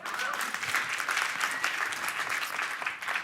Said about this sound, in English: You're gonna clap like that for more money?